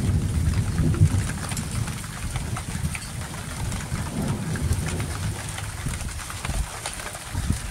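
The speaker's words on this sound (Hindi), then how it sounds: "ये देखें कैसी कैसी गरज चमक से बारिश हो रही है।" Heavy rain pours steadily with deep rumbling thunder and lightning rolling underneath in Saudi Arabia, a dense, loud wash of sound throughout with no voices.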